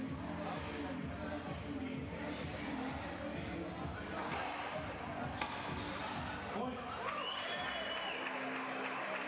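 A crowd at a racquetball final cheers and claps steadily for a player, a dense roar of voices and applause with occasional sharp ball thumps.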